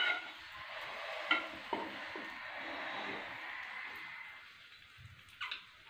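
Kachori fries in oil spread in a pan with a soft, steady sizzle, broken by a few light scrapes and taps of a utensil, faint and close with no talk.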